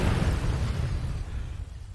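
A rocket crashes and explodes in Kerbal Space Program, a loud rumbling boom that decays slowly over two seconds.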